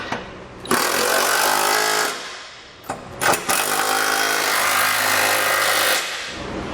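A power tool tightens Curt trailer hitch receiver hardware on a 2019 Subaru Forester, making loud, sustained rattling whirs with a short break midway before it runs on.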